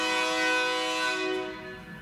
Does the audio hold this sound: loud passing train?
yes